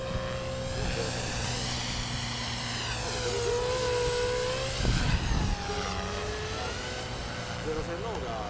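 An MSH Mini Protos radio-controlled helicopter on a 3S LiPo battery with 321mm main blades flies nearby, giving a steady buzzing whine that rises and falls in pitch as it moves, with people talking over it.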